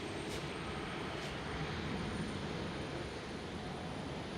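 An ITA Airways Airbus A220 spools up its engines on the ground at Amsterdam Schiphol, a steady, faint, distant roar that holds evenly throughout.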